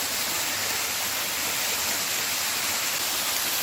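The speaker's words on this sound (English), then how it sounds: "Bob is taking the shower in the waterfall we found." A waterfall on the Appalachian Trail pours steadily while a hiker showers beneath it, a dense, constant roaring hiss at close range with no pauses or talk.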